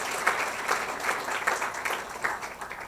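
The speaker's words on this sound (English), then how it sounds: "I think a big round of applause to all of you." An audience at a university orientation program claps. The applause is faint and sounds somewhat distant, with uneven bursts of clapping.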